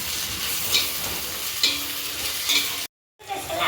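Tomatoes and onions sauté in a pan for chicken biryani, a steady moderate sizzle broken by a few stirring scrapes, cutting out briefly near the end before the frying noise returns.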